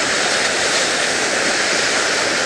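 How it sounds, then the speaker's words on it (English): Surf on the Lake Michigan shoreline at PJ Hoffmaster State Park roars steadily as a loud, continuous broadband wash with no pauses, close and unbroken throughout. "This is Lake Michigan shore. Beautiful, beautiful day. Wonderful surf."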